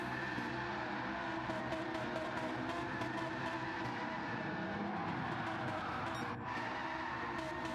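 Several sports car engines, including a Lamborghini and a McLaren, roar together in a racing video game at Fuji International, a dense, steady drone with faint tire noise, continuous and fairly loud throughout, no voices.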